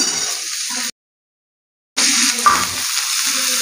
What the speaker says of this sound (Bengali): কড়াইশুঁটি দিলাম